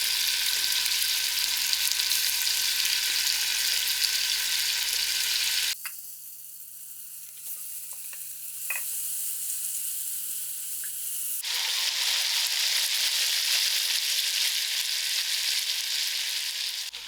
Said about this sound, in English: gradually I'm going to add in my soya chunks to the ghee.